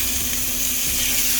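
A ribeye steak sizzles on a hot Blackstone griddle, a steady, loud hiss of frying fat with no breaks, alone and close.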